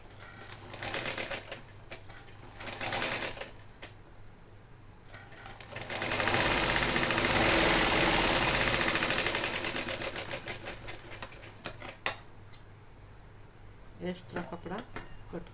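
A sewing machine stitching a strip onto a princess blouse, running in bursts of rapid mechanical whirring with a long loud run in the middle, separated by pauses and handling clicks.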